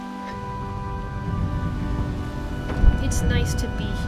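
Rain and rolling thunder from the flooded world of the video game Rain World Downpour, a steady downpour rumbling throughout with a louder thunder crack near the end, and faint voices mixed under it.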